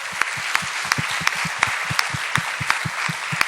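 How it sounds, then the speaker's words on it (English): Audience applause at a TEDx Gateway simulcast event, with crisp, sharp claps standing out in a steady, regular rhythm over a continuous wash of clapping hands. "Give a big hand of applause to."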